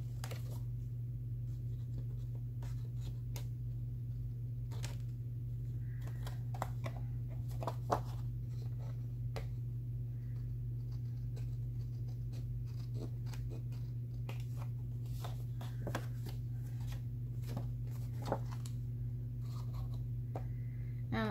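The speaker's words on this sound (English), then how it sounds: "I trim from the back because I can see where my scissors line up with the paper" Scissors trimming overhanging paper pieces on a collage in an art journal, faint irregular snips and paper rustles scattered over a steady low electrical hum, close and quiet with no talk.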